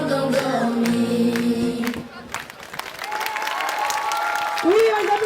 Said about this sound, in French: Oui, on les applaudit bien fort